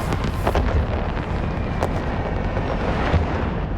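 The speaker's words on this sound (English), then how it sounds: "I love fireworks." Fireworks in the space game Eve Online boom and crackle as a dense, continuous roar with rumbling low bursts and a few sharper cracks, loud and unbroken throughout.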